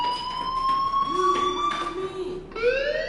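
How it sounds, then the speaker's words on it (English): A fire alarm rings in the video game Life is Strange, a steady loud electronic tone that shifts pitch partway through, then jumps to a new rising wail near the end. "Hey, do you hear that fire alarm?"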